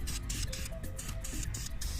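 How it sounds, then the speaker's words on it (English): Spray paint hisses onto a DIY glam entrance table console in short, repeated bursts, close and fairly loud, with brief gaps between strokes. "I'm gonna spray the entire thing like that."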